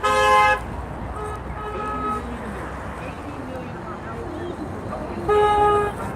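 A vehicle horn honks loudly twice, once at the start and again near the end, with traffic noise and talking in between.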